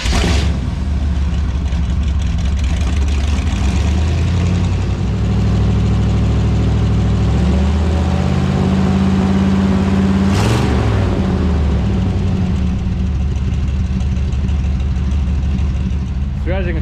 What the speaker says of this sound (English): we'll get a cold start of this thing so you can see just kind of how bad she is when she first fires over.